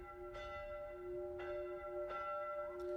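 Distant church bells ring from afar in a visual novel scene, several soft strikes spaced about a second apart, each bright tone lingering and overlapping the next against a low background hush.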